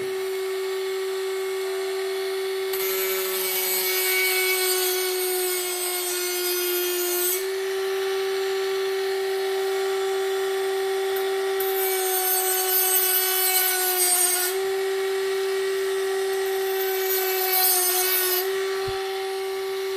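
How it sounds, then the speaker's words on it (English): A Parkside cordless multi-grinder runs at maximum speed as it cuts wood, giving a steady high motor whine with rougher, louder bursts of cutting noise as the blade bites in. The tool sounds close and carries on without a break, with no talking over it. "Let's try to cut some wood. Maximum speed."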